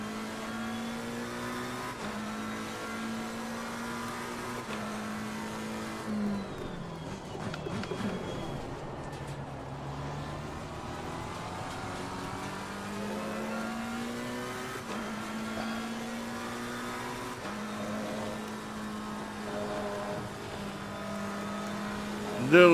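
Race car engine at the Nürburgring in Assetto Corsa Competizione, held at steady high revs with rising and falling pitch through gear changes, loud and continuous throughout, with a short dip around the middle.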